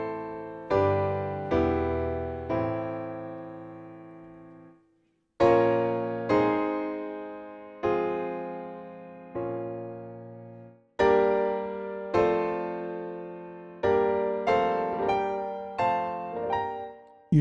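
Piano chords in the Aeolian mode ring out one after another, each struck cleanly and left to decay, with short pauses between phrases and no voice over them.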